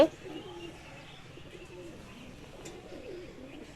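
Pet pigeons kept as hobby birds coo softly and steadily, a low continuous murmur with faint chirps, no voices.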